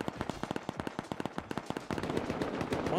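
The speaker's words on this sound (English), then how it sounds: "Is that him shooting right now?" Gunfire in the video game Rust: rapid, evenly spaced sharp shots cracking in a quick automatic rhythm, moderately loud, with a denser, noisier stretch of shooting toward the end.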